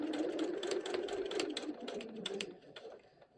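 A sewing machine runs steadily while stitching the curved gusset of a zippy circle pouch, a close, continuous mechanical whir that pauses and picks back up toward the end.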